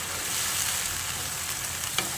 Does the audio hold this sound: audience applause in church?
no